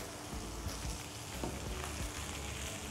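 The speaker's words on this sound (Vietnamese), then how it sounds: "miếng thịt heo của mình đã được sear tốt như vậy rồi á ha, và bắt đầu cái hành của mình á nó trở nên mùi nó dậy rất là thơm" Pork and onions sear in a pot for Japanese ramen, giving a steady, close, loud sizzle of hot frying with faint stirring scrapes throughout and no talking.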